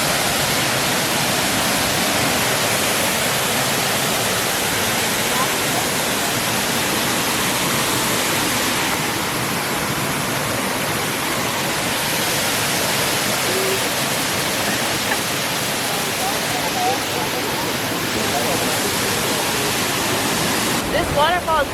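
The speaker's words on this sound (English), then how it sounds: "This waterfall is called Coco Falls." Coco Falls in the El Yunque tropical rainforest roars as a loud, steady broadband rush of falling water, close and continuous throughout, with faint voices partly lost beneath it.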